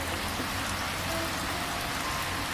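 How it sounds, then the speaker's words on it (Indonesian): Heavy rain pours down in a dense, steady hiss that stays loud and unbroken throughout, with no voices or other sounds breaking through. "Ketika hujan turun dengan deras,"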